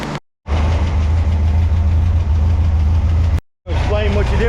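Engine running loud and steady during carburetor tuning, a close rumbling idle with a strong low hum, cut by two brief silent gaps, with a voice faintly present.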